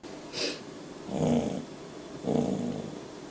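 A dog makes low, breathy growls and snorts, two rough rumbling bursts about a second apart after a brief sniff, close and fairly quiet.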